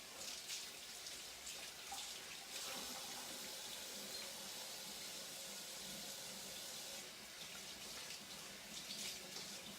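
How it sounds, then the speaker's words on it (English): Running tap water pours steadily into a kitchen sink while someone washes their hands, a continuous broad splashing rush that stays close and fairly even from start to finish. "I'm gonna wash my hands real quick"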